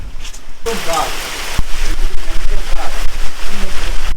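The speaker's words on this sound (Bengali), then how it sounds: "এই বৃষ্টি কিন্তু পিছু ছাড়ছে না সব সময় বৃষ্টি হচ্ছে" Steady rain patters heavily on surfaces throughout on Rakshaskhali island in the Sundarbans, with a voice briefly audible under the constant wash of water.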